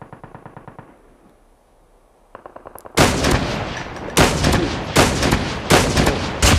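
Gunshots in the mobile shooter game Call of Duty Mobile: faint clicking at first, then a quiet lull, followed by a series of loud, close, booming shots fired at regular intervals.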